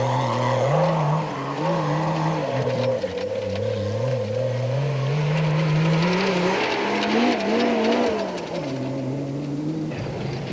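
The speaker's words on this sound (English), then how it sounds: "smiling on Philip Ballon and Richard Leek, whose powerful but not always reliable turbocharged Toyota Hilux had moved up to 4th overall and first in Class 6." A powerful turbocharged Toyota Hilux off-road race car is driven hard during a 1991 desert endurance race. Its loud, close engine holds a continuous roar that climbs and falls in pitch as it revs and shifts.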